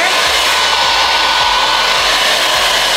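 A small dual-voltage travel hair dryer runs steadily at close range, a constant loud whooshing hum with no pauses.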